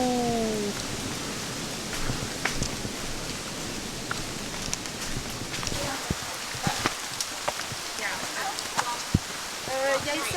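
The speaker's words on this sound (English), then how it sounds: "As you can see, it's raining" Rain pattering steadily through a bamboo forest on Maui, a broadband hiss with scattered drips and taps, while a voice speaks briefly at the start and end.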